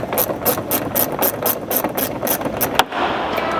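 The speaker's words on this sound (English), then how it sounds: "tightening this outside screw first, then tightening the inside one as much as we can" A ratchet tightens bracket screws on a Toyota Prado 250 flare and mud flap kit, giving a loud, close, rapid run of evenly spaced clicks that stops briefly near the end and then resumes.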